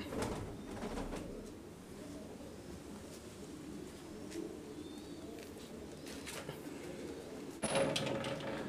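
An English Powder pouter pigeon coos softly and steadily through low, murmuring loft ambience, a brief brighter sound breaking in near the end.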